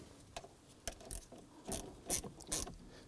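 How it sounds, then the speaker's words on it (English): A ratchet clicks in short irregular bursts while snugging down the battery terminal nut on a 2003-2014 Volvo XC90, close and fairly quiet, with no talking. "Go ahead and grab that ratchet and we're going to snug down the nut here."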